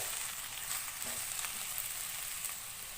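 Mixed colourful vegetables frying in a pan, a steady close sizzle and crackle running throughout, alone with no voices.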